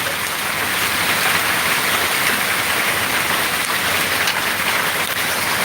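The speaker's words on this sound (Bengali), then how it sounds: "টিনের চাল আছে ওখানে শব্দটা শিলাবৃষ্টির শব্দটা আরও বেশি" Hail pounds a tin roof in a dense, continuous roar, loud and unbroken, with no voices.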